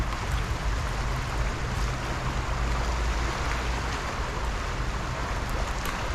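A strong river current makes a steady, loud rush of fast-moving water that fills the scene, a constant broadband roar without pauses.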